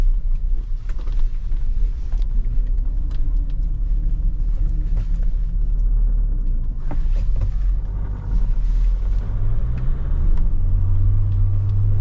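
Loud low rumble of a Mahindra Thar driving in 4x4 mode, with a persistent whine from a faulty differential and some clunks over engine noise.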